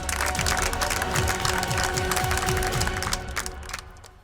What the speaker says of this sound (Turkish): Bir alkış daha rica edeceğim sizden.